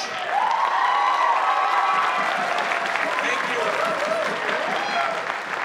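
Audience applause in a school auditorium during a high school band concert. The clapping is sustained and even across the whole stretch, with a few voices calling out and whooping over it.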